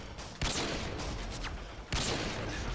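Dense gunfire from a first-person shooter video game, a loud sustained rattle of rapid shots with two sharper bursts standing out, close and continuous with no talk.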